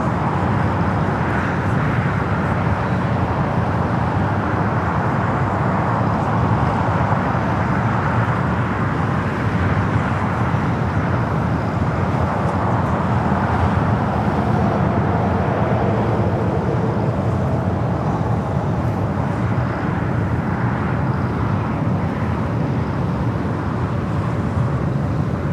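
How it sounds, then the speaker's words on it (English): A Cathay Pacific Boeing 777 taxis toward the gates on the north side of Tom Bradley at LAX, a steady broadband jet rumble and hiss holding level and moderately distant throughout. "777 with Cathay now heading into the gates there on the north side of Tom Bradley."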